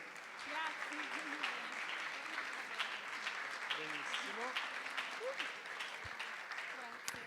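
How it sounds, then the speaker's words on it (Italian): An audience in a theatre applauds steadily throughout, a dense continuous clatter of hands at a live music audition event, with faint voices mixed in. "Un grande applauso."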